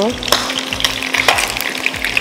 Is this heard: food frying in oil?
yes